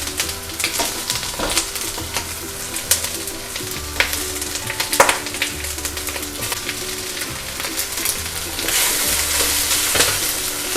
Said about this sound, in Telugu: కొంచెం చిల్లీస్ వేస్తున్నాను, ఉల్లిపాయలు, కొంచెం బీన్స్, అన్నీ టక్ వేసుకోవడమే.